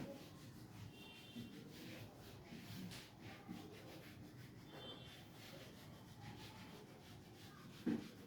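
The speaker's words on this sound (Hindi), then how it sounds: "अब इसे रब कर लेते हैं, पूरे को रब कर देता हूँ।" A teacher rubs out a whole classroom board with steady, faint scrubbing strokes, a soft continuous friction sound with a brief louder knock near the end, no talking.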